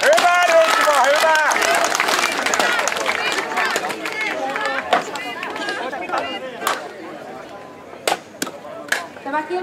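Outdoor crowd at the Anianpelto market in Vääksy applauding Heikki and Asikkala's new municipal manager, a dense burst of clapping and cheering voices that thins into scattered claps, with talk over it.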